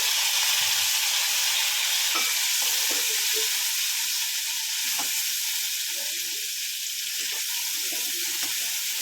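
Steady sizzling and frying hiss of tomatoes added to hot oil with ginger-chili paste, close and continuous, with occasional soft stirring clicks and no talking.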